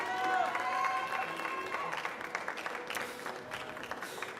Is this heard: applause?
yes